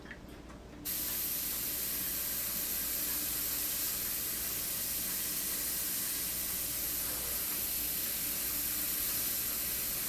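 A steady, loud spray hiss starts almost immediately and continues unbroken to the end, broad and airy like an aerosol or pressurized nozzle, used on a model ship.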